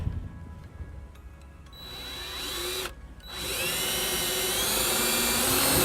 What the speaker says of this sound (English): Then I'll take the self-tapping screw and ground off the grounding wire to